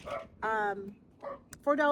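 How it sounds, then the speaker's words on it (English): A dog barks and yips in short, high, bursty calls, several separate outbursts over two seconds, fairly close and loud, from an indoor house dog answering the neighbour's dog. "If you hear my dog in the background, please excuse him."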